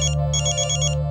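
A phone ringtone sounds for an incoming call in a domestic TV drama scene, a steady repeating electronic tone in bursts over a low hum, close and fairly loud with no talking.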